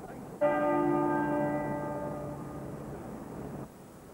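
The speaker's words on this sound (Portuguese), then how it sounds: "Cento e uma vezes tocou o sino da Abadia de Westminster" A single deep stroke of the Westminster Abbey church bell rings out, ringing clearly before its rich hum slowly fades over a few seconds.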